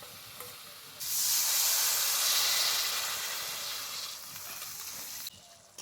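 Sizzling and steaming hiss as water is poured over fried okra in a hot pan with chilli, cumin and coriander powder, surging loudly after a quieter stir and fading gradually before cutting off.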